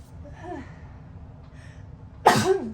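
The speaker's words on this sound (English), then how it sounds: "Oh, I'm going to sneeze." A single sharp sneeze bursts out near the end after a quiet stretch with a soft vocal breath or murmur, loud and close.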